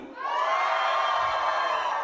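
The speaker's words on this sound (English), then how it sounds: "if you're ready for the night of your lives, scream!" A wedding reception crowd at a resort roars with sustained cheering and high screams, a dense wall of voices swelling quickly and holding steady.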